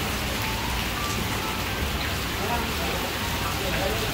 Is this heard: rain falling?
yes